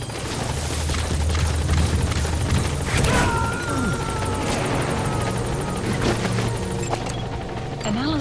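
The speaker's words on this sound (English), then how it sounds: "Support helicopter has arrived." A support helicopter arrives in Metal Gear Solid 5: The Phantom Pain, its steady rotor thrum loud and continuous, with game effects and a brief voice over it.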